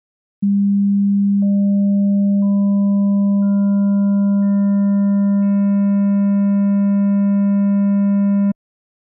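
A pure, steady synthesized sine tone holds for several seconds, with higher overtones stepping in one after another until it cuts off abruptly.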